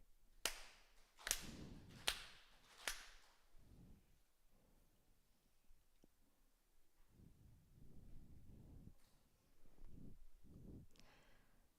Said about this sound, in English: Four sincere claps together.